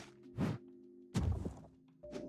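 Bombs going off in the CrashLands video game, heard as two muffled thumping bursts about a second apart, followed by a softer third hit, quiet and close.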